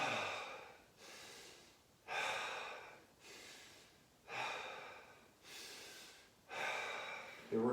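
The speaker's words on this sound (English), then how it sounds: "So you're just going to restore your oxygen levels by breathing deep." Deep, slow breathing after a core workout, with six long inhale and exhale cycles in steady rhythm, close and fairly quiet, without speech.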